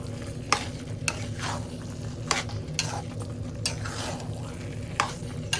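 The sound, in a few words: stirring and frying taro leaves with hilsa fish head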